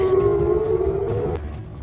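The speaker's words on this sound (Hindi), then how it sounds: "रात करीब 2:53 पर बैटियम इलाके में हवाई हमलों के सायरन बजने लगे" A steady wailing air raid siren tone holds a sustained pitch then slowly fades, with a low background rumble underneath throughout.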